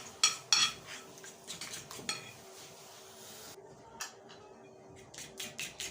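A fork whisks and clinks against a bowl while chicken bread patty batter is being mixed, giving a run of quick scraping taps and clinks, loudest at first and then softer, close by with no talking.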